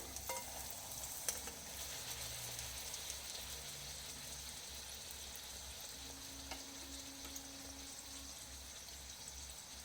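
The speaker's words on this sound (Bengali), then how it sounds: "প্রত্যেকটা কচুরি আমি এভাবে লাল লাল করে ভেজে নেব।" Pea-stuffed kachuri puris deep-fry in hot oil, giving a soft, continuous sizzle and bubbling at low volume, steady with no voices over it.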